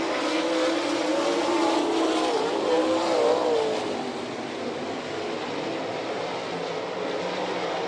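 Sprint cars racing at Lima Speedway in Ohio, a continuous loud engine roar with a rising and falling whine as cars pass, easing slightly partway through.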